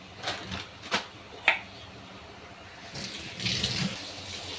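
Water poured into frying chole masala in a pan, a brief splash and gurgle followed by a soft sizzle, with a few utensil taps before it, close and quiet, with no talk.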